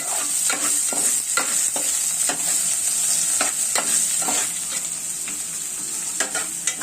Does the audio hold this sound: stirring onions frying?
yes